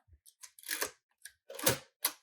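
Tab setting on a 1957 Smith Corona Silent Super typewriter produces a quick series of close mechanical clicks and clacks, several small taps followed by two louder metallic snaps, with brief gaps of silence between them.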